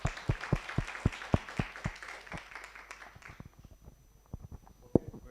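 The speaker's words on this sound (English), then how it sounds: "A big hand of applause for them." An audience at a sustainability and digital-cyber conference claps for the speakers. The applause is faint and sparse, a handful of distinct claps at a brisk even pace that thin out and scatter toward the end.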